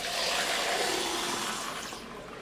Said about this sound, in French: L'eau du robinet à Saint-Laurent-du-Maroni.